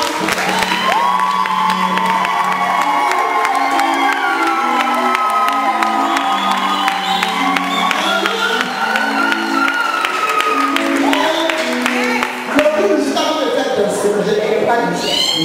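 A church congregation at a lively francophone worship service cheers and acclaims the Lord, a sustained loud crowd of voices and whoops mixed with music over the full stretch.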